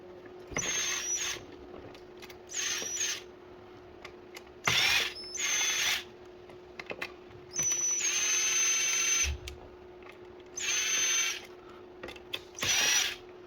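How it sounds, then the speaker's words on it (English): Screws being removed from a Super 73 e-bike with a cordless power driver, several short whirring bursts separated by pauses, with clicks between them, close and fairly loud. "Let's start by taking out the 3 screws that are right here."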